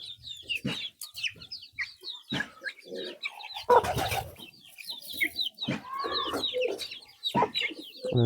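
Free-range chickens cluck repeatedly in short, uneven bursts, with scattered bird chirps around them, one hen ill.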